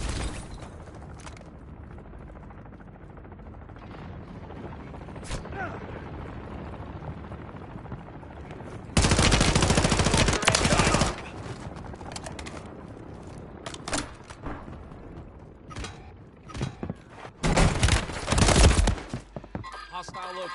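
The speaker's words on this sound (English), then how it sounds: "Taking fire." Gunfire in Call of Duty Warzone: several loud bursts of automatic fire break through a quieter stretch of game noise, one long burst in the middle and shorter bursts near the end.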